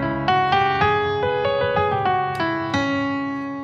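A blues scale is played on guitar, a series of single plucked notes ringing in turn at a moderate pace, close and clean with no voices.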